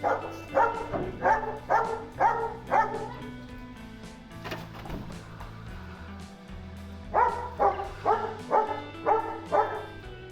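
A search dog barks in two rapid bursts of about five loud, evenly spaced barks each, with a quieter gap between them, during anti-terrorist training drills.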